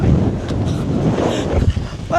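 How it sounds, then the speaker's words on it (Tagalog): Strong wind buffets the microphone in heavy, rumbling gusts on a hilltop cliff at Panorama Park in Bakersfield, with a person talking underneath the roar. "Tingnan mo, sobrang mahangin talaga."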